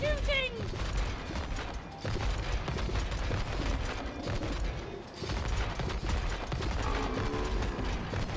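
Gunfire and mechanical clatter from the co-op video game It Takes Two, a dense continuous barrage of shots and whirring machinery with brief lulls around two and five seconds, loud throughout.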